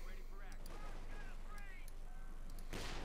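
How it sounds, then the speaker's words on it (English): Artillery guns and mortar bombarding in Company of Heroes 2, a battlefield din of repeated sharp booms and crackling impacts with a heavy blast near the end, set beneath tonal voices and game chatter. "We got the double line for guns they're bombarding, and we got the mortar as well."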